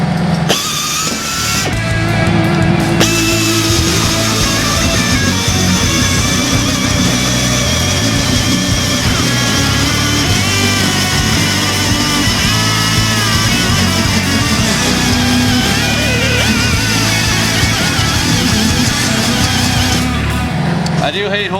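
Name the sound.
cheap air drill cutting steel with a hole saw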